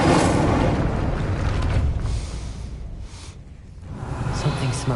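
Fire spell effect in the Hogwarts Legacy video game: a loud, broad whooshing roar of flame that fades slightly, then swells again toward the end.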